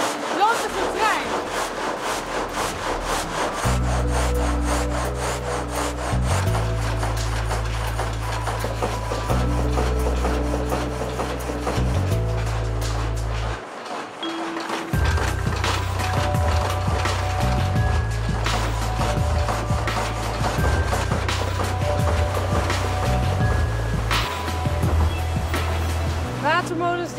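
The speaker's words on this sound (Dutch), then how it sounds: "Het zaagraam is een leeg raam met zagen erin." Steady rhythmic rasping of a water-mill-driven frame saw cutting through wood, with a low mechanical drone underneath, continuing for the whole stretch with a brief pause midway.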